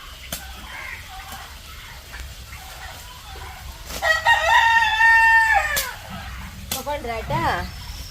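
Backyard hens and a rooster clucking and crowing noisily, with a long crow rising mid-clip and agitated cackles following, close and loud over steady rural background.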